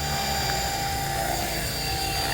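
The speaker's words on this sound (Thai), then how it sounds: "รอให้ใบพัดหมุนจนสุดเสียงนะครับ" The rotor of a Devil X360 RC helicopter spins at high speed nearby, producing a steady, loud whining drone that holds evenly for the whole short stretch.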